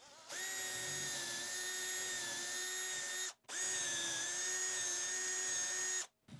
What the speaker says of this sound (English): on the drill bit to make sure I don't drill too far